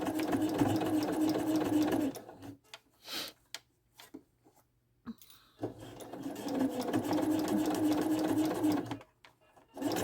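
Sewing machine stitching fabric gathers, a rapid whirring run for about two seconds, a pause with small clicks, then a second long steady burst near and clear.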